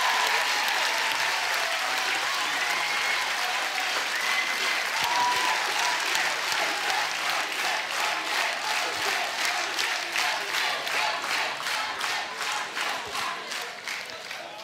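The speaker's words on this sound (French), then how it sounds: "Merci de les applaudir très fort." Audience at the Apprentiscène 2024 grand final applauds the founders of Issaine, steady loud clapping from a large crowd that swells into a rhythmic, pulsing beat toward the end.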